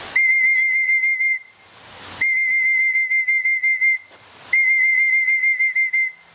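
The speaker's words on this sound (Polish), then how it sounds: "Wezmę gwizdek i trochę próbuję powołać." Three long, shrill whistle blasts calling racing pigeons, each about a second and a half, ending in a quick trill of short pulses, with brief pauses between them.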